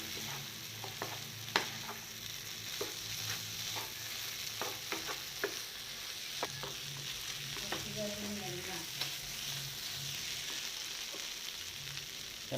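Beef pieces frying in a pressure cooker for beef ularth give a steady close sizzle, punctuated by scattered spoon scrapes and stirring clacks, with no voices.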